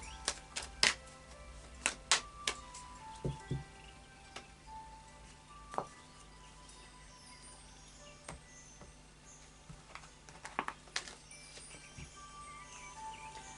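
Crisp papery snaps and riffles of tarot cards being shuffled, scattered in quick bursts over a quiet room, close by with no talking.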